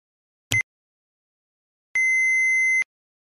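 An answering machine gives a short click, then after a pause a single steady electronic beep lasting about a second, clean and isolated against silence.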